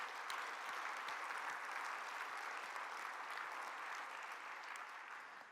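Steady, sustained applause from a keynote audience fills the room, dense and even throughout with no voices rising above it.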